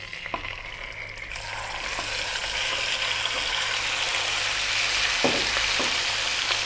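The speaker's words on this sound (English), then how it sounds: "Then we're gonna drop our beef in." Cubed stewing beef, about 500 grams, dropped into hot oil over above-medium heat, a steady loud sizzle and frying hiss that swells as the meat settles, with a few stirring knocks and no talking.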